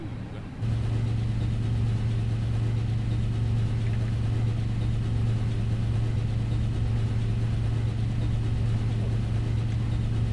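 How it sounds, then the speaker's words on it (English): Simulated Airbus A320 engine number 2 spooling up during start in the Prepar3D flight simulator, heard as a steady droning hum with a low tone that switches on abruptly and then holds evenly and loud for the rest of the stretch. "we can go ignition start, and we can fire up engine number 2."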